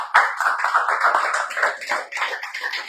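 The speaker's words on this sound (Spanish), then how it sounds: "Que le da un aplauso al Señor, hermano." A church congregation applauding, a steady dense round of close hand clapping that swells and holds across the moment, with no voices over it.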